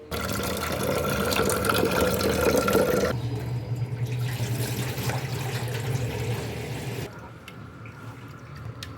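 Water runs steadily from a tap into a container, pouring and splashing for a few seconds and then shifting to a quieter, thinner trickle, close and continuous with no talking.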